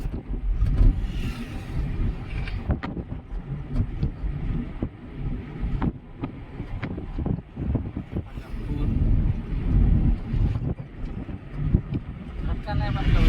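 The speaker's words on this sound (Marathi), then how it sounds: "एका हाताने गाडी चालवायची." A car driven on the road gives a low engine and road rumble with wind buffeting, while a person talks over it throughout.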